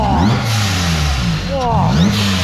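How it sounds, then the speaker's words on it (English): A Honda car engine on a dyno at a Honda meet revs loudly and close by, its pitch sweeping up and down through a couple of throttle blips over a constant rumble. "Go on then, give her a rev, mate."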